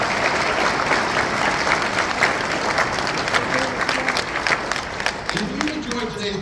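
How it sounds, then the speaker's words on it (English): Applause from an audience at a community band's Memorial Day concert, a dense, steady wash of clapping lasting several seconds, with a few voices and a faint tone rising near the end. "Can we give them a big round of applause?"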